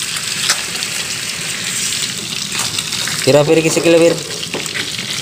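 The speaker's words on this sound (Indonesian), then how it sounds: "Goreng buat lele." Catfish (lele) frying in hot oil at a breakfast food stall, a steady bright sizzle throughout, with a voice speaking briefly over it.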